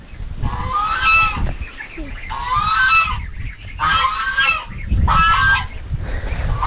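Farm ducks honking and quacking loudly in four repeated bursts, close by, over a constant low rumble of background noise.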